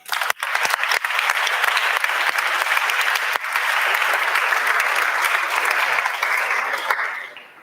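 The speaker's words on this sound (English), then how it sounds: "Big round of applause." Sustained, dense applause from an event audience at a final startup-programme gathering in Crans-Montana, steady and loud for about seven seconds before tapering off at the end.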